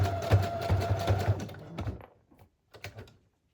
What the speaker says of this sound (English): Now I'm going to try to sew kind of over the tails of the bow just so they're on there even extra good. And I'm doing a zigzag stitch.